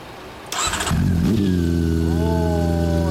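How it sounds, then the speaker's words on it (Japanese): A motorcycle engine turns over and catches, then settles into a loud, steady rumbling run with a slight rev swell, heard close up with a little background chatter before it starts. "エンジン音聞かせてもらえる？"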